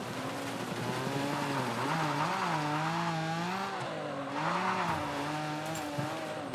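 Porsche race car engine in the off-road racing game Gravel, revving hard and holding high rpm on a short circuit, its loud steady whine rising and falling with gear changes and throttle, with no talking.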